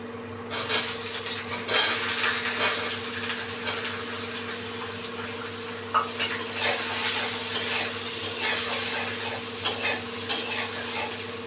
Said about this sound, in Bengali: তেল দিয়ে বেগুনগুলোকে একটু ভেজে নেবো